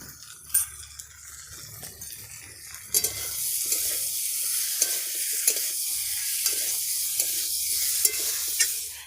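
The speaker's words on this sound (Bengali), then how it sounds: "লবণ দেওয়ার পরে একটু নেড়ে নিয়েছি" Potatoes and pointed gourd cooked down with spices and salt in a pan, stirred with a utensil that scrapes and clinks against the metal over a continuous sizzle, close and moderately loud.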